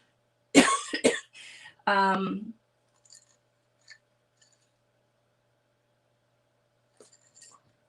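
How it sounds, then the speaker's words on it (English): A few harsh, close coughs in a quick cluster, followed by a throaty voiced sound, then near silence with faint clicks. "I'm going to start coughing again."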